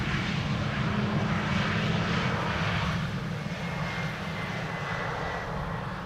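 An Air Malta airliner (A320neo) roars continuously at Amsterdam Schiphol Airport, a broad loud engine rumble and whoosh holding steady throughout, with no talk over it.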